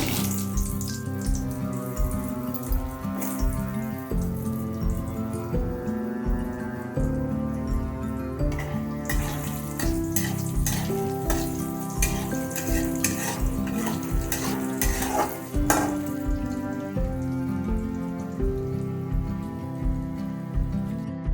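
Potatoes fry in oil with half a spoon of panch phoron after fish has been lifted out, a steady close sizzle with repeated clinking stirs and scraping over quiet background music.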